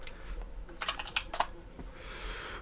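Quick bursts of keystrokes on a computer keyboard as a Linux command is typed, with irregular clicks clustered in the middle of the clip and a faint background hiss, no talking.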